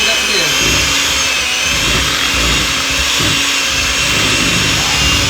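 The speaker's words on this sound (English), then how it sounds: "Oh yeah, if you got a blender, that's gonna mix up really quick." An electric hand mixer whirs steadily as it blends peanut butter for peanut butter balls, a loud continuous motor drone with faint knocks from the bowl, and no pauses.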